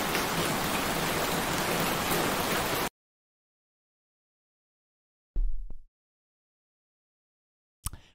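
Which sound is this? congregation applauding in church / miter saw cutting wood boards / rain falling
rain falling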